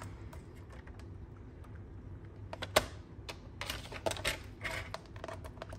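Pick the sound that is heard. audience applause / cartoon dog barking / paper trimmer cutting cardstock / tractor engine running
paper trimmer cutting cardstock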